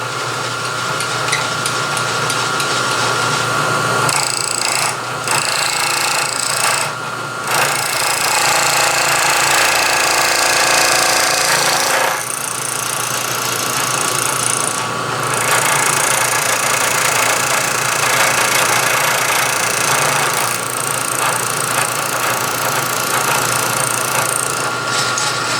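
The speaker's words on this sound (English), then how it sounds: "you can take your clamp off and go ahead and mill" A milling machine cuts the edges of wooden stock with a loud, sustained, rattling grind, broken by brief shifts in pitch and intensity as the cut progresses.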